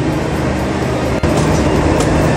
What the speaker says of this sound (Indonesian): Ini dia kereta kita di KA 2081019.